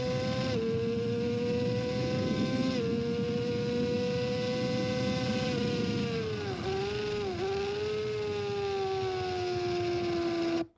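Yamaha R6 motorcycle lapping the TT-Assen circuit, its engine a loud, steady high-revving whine heard from onboard, with pitch drops where the rider rolls off and downshifts before climbing again, no voices present.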